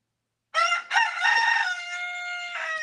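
After a moment of silence a rooster lets out a full, loud crow close by, rising at the start and holding a long, drawn-out note that ends with a final flourish.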